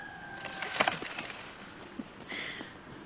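Birds call in a snowy garden in early spring with robins about: a quick burst of chirps and wing flutter early on, then scattered faint calls over a quiet outdoor background.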